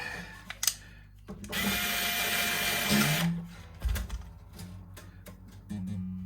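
A steady high-pitched whirring of a small drill with a tiny bit runs for a couple of seconds during an acoustic guitar setup, with clicks and handling noises before and after.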